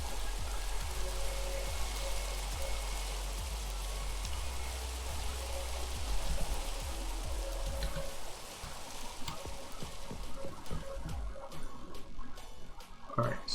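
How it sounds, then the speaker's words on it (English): Steady rain falls in a video game world, a dense continuous hiss of drops with low rumbling underneath, holding level throughout before thinning toward the end. "let's get some rain to be gone"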